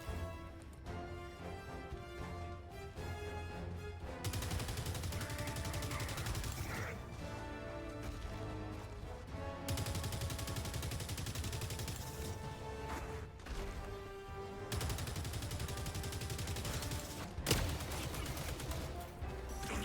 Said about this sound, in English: I just shot at the ground randomly right next to him